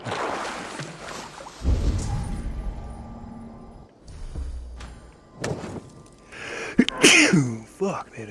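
A single sharp, close sneeze from a man playing Assassin's Creed Valhalla bursts out near the start, followed by softer breathy sounds, a light thump and some murmured talk.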